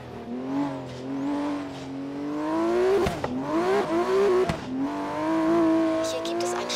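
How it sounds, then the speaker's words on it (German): A boxer-engine car in Forza Horizon 3 revs and accelerates loudly, its engine tone climbing and dropping through gear changes with brief sharp transients, sustained over several seconds. "Ja, das ist schon ein geiler Sound mit diesem Boxermotor."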